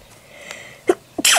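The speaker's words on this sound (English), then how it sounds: "Oh, I had to sneeze." A single sharp human sneeze, a quick breathy intake followed by an abrupt explosive burst at close range, with faint background sound beforehand.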